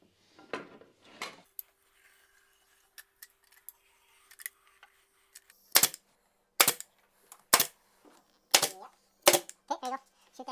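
A pneumatic nail gun fires into wooden stair railing during a stair and railing makeover, giving sharp, close, separate snaps: a few early, then a quick run of loud shots in the second half, with faint movement between them.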